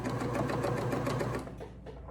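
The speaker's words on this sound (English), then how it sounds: "I'm just sewing a little bit because I've got to pull the strap." A sewing machine stitches a lined bridesmaid dress's shoulder strap in a steady, close, continuous whir that slows and stops near the end.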